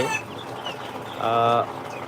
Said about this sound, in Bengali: এই যে দেখুন অরিজিনাল টাইগার মুরগির বাচ্চা